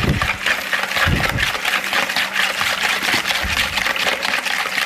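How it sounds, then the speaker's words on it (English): Thin, runny teriyaki sauce being whisked together, giving a steady, fairly loud wet swishing and clinking that runs without a break from start to end. "we'll just whisk this all together"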